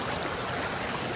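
Water rushes steadily and close at St. Peter's waterfall in St Kitts, a continuous broadband roar with no pauses and no voices.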